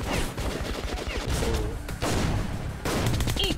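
Enemies fire shotgun shells in the shooter Metro Last Light, a dense barrage of booming blasts and crashes that rumble on continuously at close range, with no clear gaps between shots.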